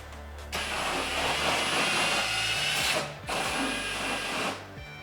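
A power drill (AEG) whirs loudly and steadily, briefly cutting out and restarting, then stopping near the end, with a mixing paddle churning thick tile adhesive.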